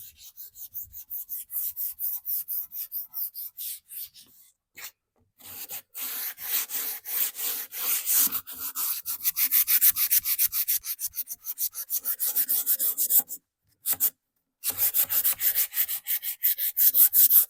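A thrifted wooden furniture piece sanded by hand, with rapid rhythmic rasping strokes in bursts, brief pauses between runs, close and fairly loud with no talking.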